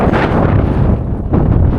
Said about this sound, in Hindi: बहुत तेज हवाएं चल रही है, बर्फीली हवाएं।